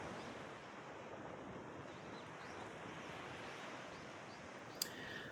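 Ocean waves wash steadily onto a beach on Jeju, a continuous soft surf roar with light wind noise and no voices.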